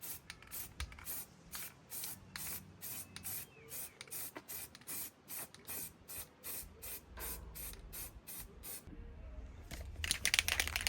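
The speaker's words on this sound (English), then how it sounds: "we can spray it all black to match the car." Aerosol spray paint hisses in repeated short bursts as black coats go onto a metal jerry can holder for a Land Rover Defender, close and fairly loud, ending in a longer bright spray.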